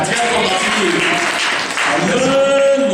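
A church congregation claps together in a sustained burst of applause mixed with cheering voices, loud and close throughout.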